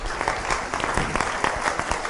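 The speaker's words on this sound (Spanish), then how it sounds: "Un aplauso para ella, por favor." Audience applause fills a room at a motivational talk, a dense steady clapping that holds at even strength throughout, close and lively with no voices over it.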